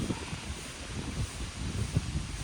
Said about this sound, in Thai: ตอนนี้คือ ลมดีมากเลยนะครับ